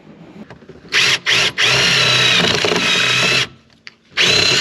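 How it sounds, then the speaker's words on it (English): A Ryobi impact driver drives screws into a Flatout camper bed fitting in a VW T6 campervan, sounding as loud, close whirring and hammering bursts: two short ones, a long sustained run, then another burst after a brief pause. "So I'm going to use my Ryobi Impact and the screws provided and pop it in."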